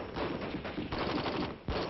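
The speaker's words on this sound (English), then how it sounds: "The M14 rifle is designed for both full automatic and semi-automatic fire." Rapid gunfire from an M14 7.62 mm rifle, capable of full automatic and semi-automatic fire, sounds as a dense, loud run of cracking shots close by, with a sharp fresh burst near the end.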